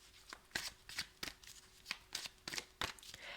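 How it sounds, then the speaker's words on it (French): Tarot cards are handled and laid over one another, producing a quick series of crisp, papery slaps and riffles in close succession, soft and close in an otherwise quiet room. "je vais essayer de recouvrir ces cartes-là"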